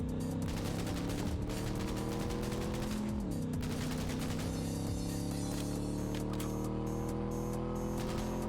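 Dense, continuous gunfire rattles over a loud droning engine during a Cyberpunk 2077 car chase, the shots blurring into a constant clatter while the motor's pitch dips briefly and then holds steady.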